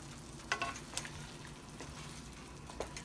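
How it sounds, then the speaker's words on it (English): Chicken adobo with soy sauce and bay leaves is stirred in a pot, with a few distinct spoon scrapes and clanks over a low simmering sizzle. "I'm going to stir that around just a little"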